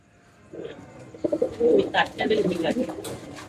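Pigeons in a loft of Madrasi breed birds coo in repeated throaty bursts, fairly close and growing busier after a quiet start, with several birds overlapping.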